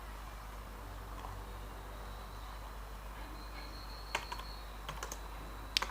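Computer keyboard typing while writing if, elif and else code: sparse, irregular light key clicks near the end of a steady quiet background hum, no speech.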